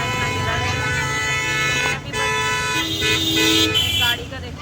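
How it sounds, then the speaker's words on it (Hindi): Busy road traffic with car horns honking repeatedly, loud and close, heard while riding in a rickshaw, with a voice talking over the din. "गाड़ी का देखो कितना शोर।"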